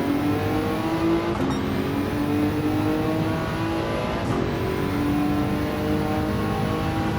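A Nissan GT-R GT500 '99 race car in Gran Turismo 7 at Circuit de La Sarthe, its engine droning steadily and loud throughout, with rising and falling pitch as it accelerates and shifts through gears.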